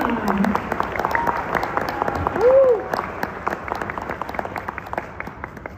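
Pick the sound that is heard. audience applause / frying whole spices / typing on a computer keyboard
audience applause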